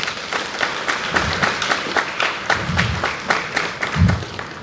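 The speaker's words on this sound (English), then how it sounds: "let us give them another round of applause" A large audience at a diplomatic ministry event gives a steady, loud round of applause, with dense, continuous clapping throughout and a few louder bursts.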